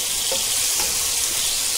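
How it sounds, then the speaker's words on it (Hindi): Masala for a fish curry frying in a pan, a constant close hiss and sizzle with no pauses, alone and without any talk over it. "अभी इसको भुनेंगे, हाँ, अच्छे से खुशबू आने तक भुनेंगे"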